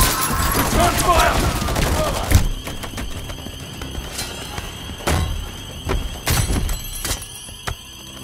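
Gunfire in a Call of Duty Modern Warfare cutscene: a loud burst of rapid automatic fire at the start, then scattered sharp shots and impacts with brief pauses, under shouted voices.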